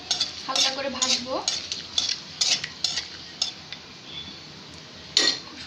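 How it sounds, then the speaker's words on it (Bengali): Bay leaf, cinnamon and cardamom lightly frying in oil in a curry pan, a soft sizzle under clinks and scrapes of a metal spoon against the cookware, fairly quiet and close. "এগুলো এখন আমি হালকা করে ভাজবো।"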